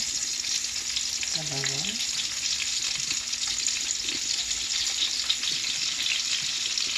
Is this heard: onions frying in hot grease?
yes